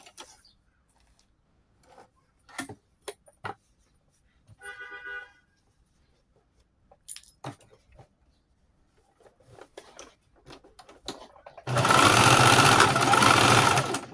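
Sewing machine back stitching on denim for a jeans crossbody bag, preceded by scattered handling clicks and a short mechanical buzz, then a loud steady whir lasting a couple of seconds near the end.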